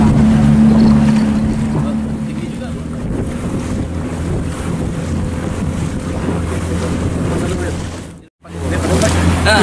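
A boat rides through big sea waves at close range. Loud, constant wind buffeting and water roar carry on throughout, with a brief sudden dropout near the end before the rush returns.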